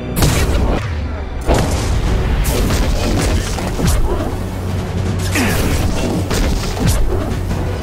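Heavy gunfire and explosions in Mass Effect 2, a loud, continuous barrage of booming blasts and sharp cracks close by, with repeated impacts every second or so and no pause.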